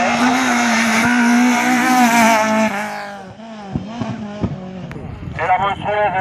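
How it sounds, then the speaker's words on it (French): A BMW Compact race car at a hill climb in Vernègues revs hard with a rising engine note, then backs off into crackles and pops. Someone speaks over it. "Et la monstrueuse BMW Compact. Ça a l'air qui démarre."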